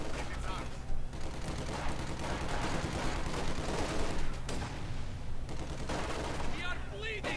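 Continuous gunfire and machine gun bursts rattle through a Company of Heroes 2 battle, dense crackling volleys layered together at steady loudness, with brief voice chatter near the end.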